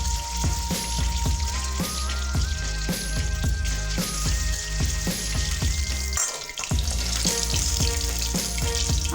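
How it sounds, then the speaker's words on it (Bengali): Eggs fry in oil in a pan with a loud, dense, spattering sizzle that carries on throughout, close and unbroken apart from a brief dip. "এগুলো একটু ভেজে নেব।"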